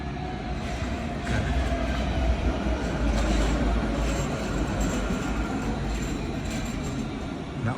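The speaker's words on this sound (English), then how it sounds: "There's another tram there." A Nottingham tram running slowly along a street past Nottingham High School, a steady loud rumble of wheels and motor that holds for several seconds with no voices.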